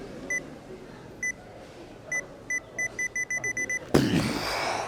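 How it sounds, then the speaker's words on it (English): A Nikon Z camera's type E electronic shutter beep sounds as short high beeps, first spaced apart and then speeding into a rapid run of about ten, before a sudden louder burst of noise ends the sequence. "And lastly, type E. This is the funniest. It's just a beep."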